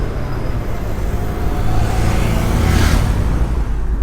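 A Lamborghini Urus Mansory's engine gives a loud, steady, deep rumble up close, swelling slightly toward the middle.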